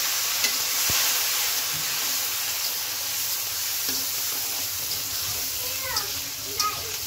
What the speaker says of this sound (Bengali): পেঁয়াজটা হালকা একটু লাল লাল করে ভাজি করে নেই।